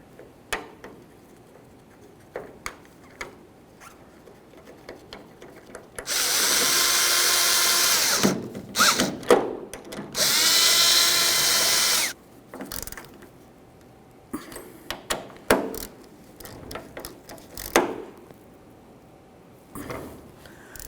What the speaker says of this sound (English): your two Phillips head screws, start them in and snug them up